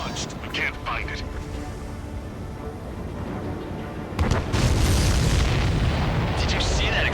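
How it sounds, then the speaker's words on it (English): Supply ship blowing up in the flight combat game Ace Combat 7, a brief crackle followed by a heavy booming blast that swells and rumbles loudly, with mechanical rushing underneath. "Did you see that explosion? Looks like that's one down."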